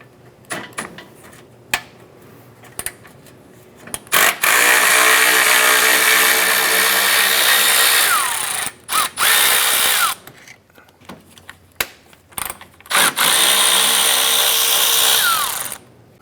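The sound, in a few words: 10mm socket removing lower fan bolts on Acura TL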